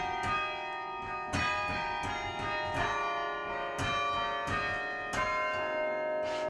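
Carillon tower bells chime a melody, each struck note ringing out and overlapping the last, resonant and moderately distant.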